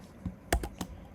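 A few quiet keystrokes on a computer keyboard while entering Python code, three or four soft clicks spaced unevenly within about a second.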